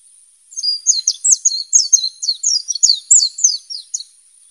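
A wild white-eye (pleci) gives a quick run of thin, high chirps, close and clear against near silence for about four seconds.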